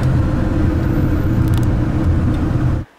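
A car drives along a road in Norway, with a steady, loud rumble of tyres and engine from inside the vehicle that cuts off abruptly near the end.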